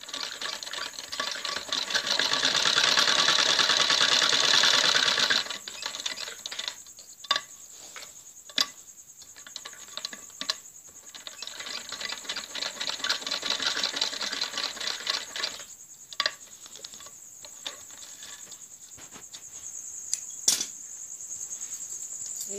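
A sewing machine stitches the collar neckline of a kurti, running in a fast continuous whir for several seconds, then short intermittent bursts of stitching with ticking pauses, close and without talk.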